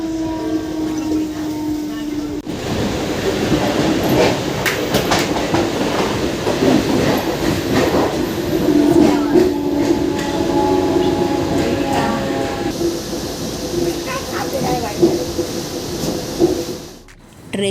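A Mumbai local train runs towards CST, filling the ride with a loud, continuous rumble and rattling wheel clatter from inside the carriage, with brief voices now and then over it.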